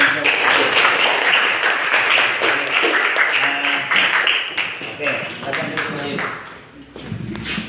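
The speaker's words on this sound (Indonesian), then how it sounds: "Tepuk tangan dulu." A classroom of high school students at a peer-teaching session claps hands together in loud, sustained applause, with some talk mixed in and a few taps toward the end.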